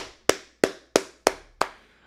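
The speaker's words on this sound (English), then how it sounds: "an endless loop of just me clapping in the background like this" Five sharp hand claps from one person, close and dry, spaced evenly about a third of a second apart, each with a quick decay and no talk around them.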